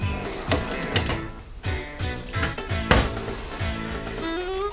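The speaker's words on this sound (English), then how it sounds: "Just to the side over here are pull-out drawers that, there again, pull out all the way." Pull-out drawers on full-extension roller guides in a Voltage 5th wheel toy hauler kitchen slide open and shut repeatedly, giving a run of close, clattering knocks and rolling rattles. There is no speech over them.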